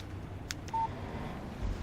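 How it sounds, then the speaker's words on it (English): Short phone text message alert in the Alan Wake video game, a few quick faint tones followed by a thin single beep over a quiet background hum. "Text message from Barry."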